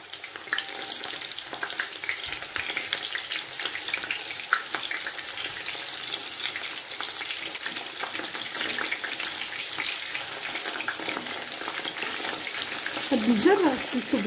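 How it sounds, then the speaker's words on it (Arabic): Eggplant fries in hot oil, giving a steady, dense sizzle that crackles continuously and slightly swells near the end, close and alone with no talk. "دابا أنا غنقلي الدنجال"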